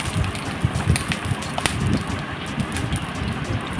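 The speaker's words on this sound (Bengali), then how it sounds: "এইগুলোকে হালকা হালকা করে নেড়ে চেড়ে ভেজে নিচ্ছি" Cumin, a dried chilli and two bay leaves sizzle and crackle in hot oil, giving a steady, dense frying hiss with small pops throughout and no talk.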